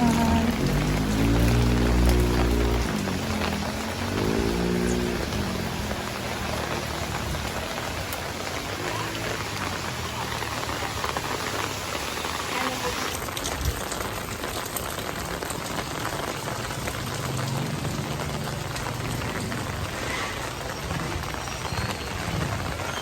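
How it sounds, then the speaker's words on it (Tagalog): Heavy rain pours steadily and close by during a wet school pickup run, a dense continuous hiss of drops striking surfaces. Low engine or traffic rumble sits underneath at the start, and there is no talk. "Lakas ng ulan."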